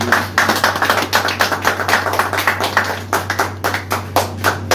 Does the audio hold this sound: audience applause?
yes